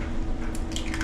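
An egg is cracked into a mixing bowl of brownie batter, giving a brief wet squish and drip as the contents slide out, close and fairly quiet, with no talking.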